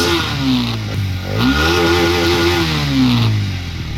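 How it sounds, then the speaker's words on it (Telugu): Hero Xtreme 250R motorcycle exhaust revving up and settling back twice, a loud, close engine note rising and falling with no talk over it. "బైక్ ఎగ్జాస్ట్ నోట్ ఎలా ఉందో ఒకసారి చూద్దాం."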